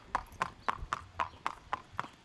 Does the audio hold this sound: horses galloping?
yes